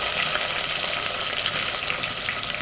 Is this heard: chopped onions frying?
yes